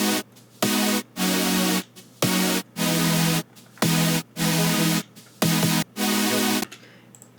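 Chopped vocal fragments run through a vocoder driven by chords, a bass-music drop of about eight even, buzzy, sustained bursts separated by short silences, loud and alone.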